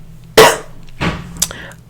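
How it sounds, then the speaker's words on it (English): One loud, close cough, followed by a softer second cough and a brief sharp knock. "Hold on, let me cough."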